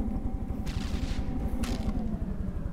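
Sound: missiles firing in a video game

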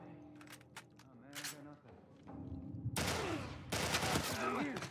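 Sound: rifle gunfire in video game The Last of Us Part I

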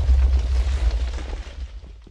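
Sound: explosion in the Minecraft video game

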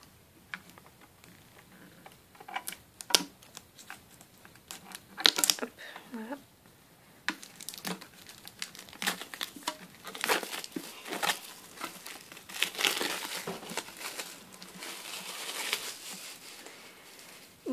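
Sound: opening a Pokémon card box packaging

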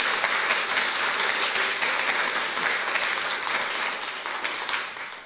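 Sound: applause

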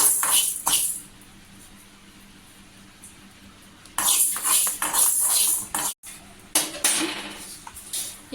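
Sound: fenugreek seeds being roasted and stirred in a pan

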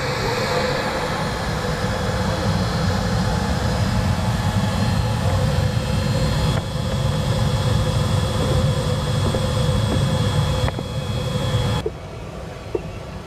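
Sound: PC-24 jet engine running in sub-idle quiet power mode

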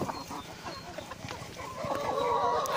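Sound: chickens clucking in new run

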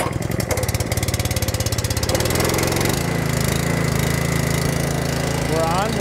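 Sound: Ryobi gas pressure washer with Honda GX200 engine running

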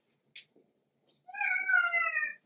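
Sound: cat meowing

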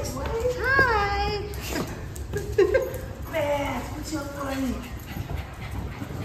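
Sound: dog whimpering and panting

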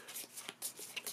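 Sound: shuffling playing cards

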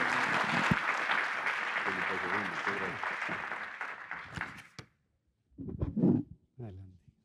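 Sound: audience applause at a medical conference

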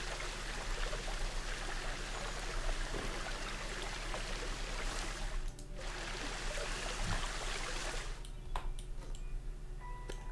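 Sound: flowing water in the video game Planet Zoo

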